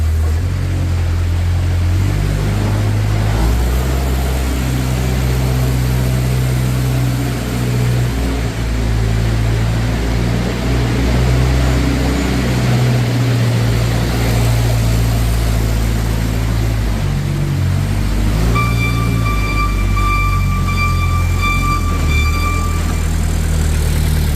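A 2014 Moffett M55 truck-mounted forklift drives around a shop with a loud, steady mid-range engine drone that rises and falls slightly. A high tonal whine or beeping joins in toward the end.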